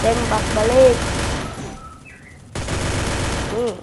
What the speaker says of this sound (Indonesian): siapa tuh yang nembak? Oh, itu. Tembak balik.